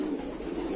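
A female racer pigeon gives a low, continuous cooing murmur through a brief moment, close and soft with a steady rumble.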